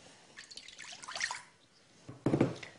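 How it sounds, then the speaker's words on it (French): Milk poured into a large bowl in a home kitchen, soft liquid splashing and trickling in two bursts, the second louder and closer, with no voices. "Dans un grand bol, je verse le lait"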